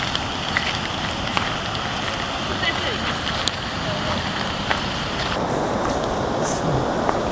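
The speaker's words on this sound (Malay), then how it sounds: "Kita orang pakai payung semua sebab sedang hujan." Rain falls around a bridge and stream during a cherry-blossom walk in Kyoto, a continuous dense hiss mixed with the rush of flowing water, steady throughout with no voices.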